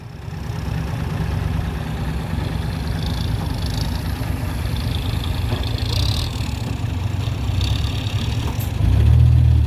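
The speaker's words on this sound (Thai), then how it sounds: "เดี๋ยวให้รถไถดัน เอาดำลงให้รถไถดัน" A tractor engine rumbles steadily at close range while pushing a vehicle stuck in mud, holding a low, even drone and swelling louder near the end, with no talk over it.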